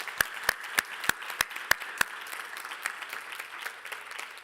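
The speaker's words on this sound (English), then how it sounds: "can we give our 2 Corla members a huge round of applause for their questions?" An audience at a panel discussion applauds. A few sharp, evenly spaced claps ring out close by, then blend into a softer, diffuse round of clapping from the crowd that gradually fades.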